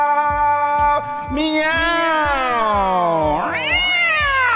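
Cat meow sound effect, several stretched, rising-and-falling meows in a row, loud and close, with a steady thumping rhythm pulsing underneath.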